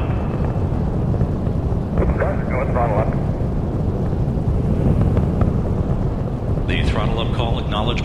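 Space Shuttle Atlantis main engines roar through launch ascent on mission STS-104, a loud continuous broadband rumble with wind buffeting that never lets up, while a commentator talks over it.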